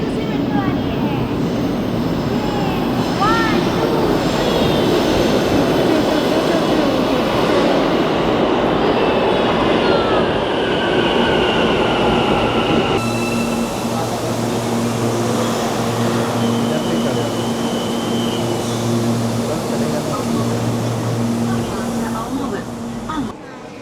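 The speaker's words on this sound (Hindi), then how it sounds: "हमारी ट्रेन आ गई है" Almaty metro train pulling into a Soviet-era underground station, a loud sustained rumble and wheel roar with a steady hum after it slows, as someone talks over it.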